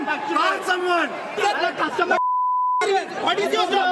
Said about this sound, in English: That is the sound of frustrated airline passengers at Mumbai's airport yelling at representatives of Indigo